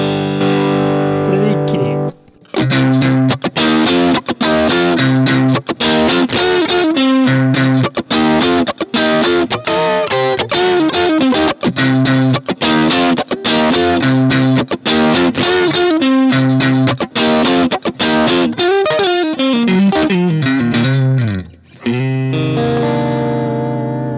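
An electric guitar through a BOSS GT-1000 processor, driven into crunchy distortion, plays a loud run of chords and riffs with short gaps, then ends on a sustained chord.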